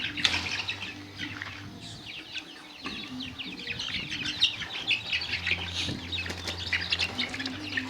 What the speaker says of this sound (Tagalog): tingnan nyo ating mga alagang mga manok